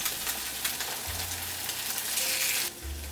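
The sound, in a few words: coconut French toast frying in a pan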